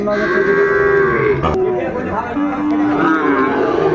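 A Sahiwal bull lets out long, loud moos at a busy cattle market, two drawn-out calls standing clearly above the background chatter of the crowd.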